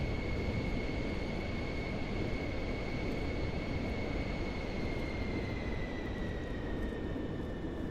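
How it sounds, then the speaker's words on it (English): A jet airliner taxis slowly over gravel in a flight simulator game, a dense steady crunching rumble beneath a constant high engine whine that holds for the whole stretch. "I love hearing the, the gravel as we're taxiing"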